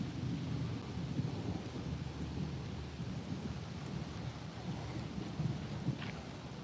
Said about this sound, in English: Ooh, you hear thunder.